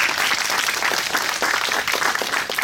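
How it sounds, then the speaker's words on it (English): Conference audience applauding the speakers at a trade index launch event, dense continuous clapping from a sizable crowd, steady and fairly loud throughout. "About a round of applause."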